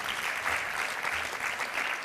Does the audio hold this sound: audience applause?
yes